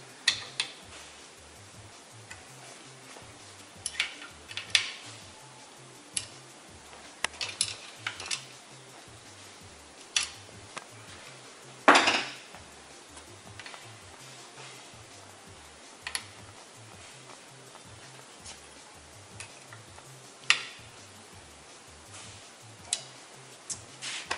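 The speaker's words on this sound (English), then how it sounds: "make sure that there is proper tension on all the bolts" A ratchet tightens bolts on a rear rack being fitted with a light and siren kit, giving scattered close clicks and ticks over a quiet background, with one louder clunk partway through.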